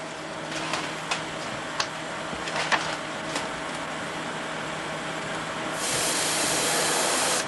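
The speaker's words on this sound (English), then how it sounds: "One shot with the airbrush, bring it out." An airbrush spraying paint, a steady airy hiss with several short bursts and clicks, then a louder continuous spray toward the end, close by with no talking.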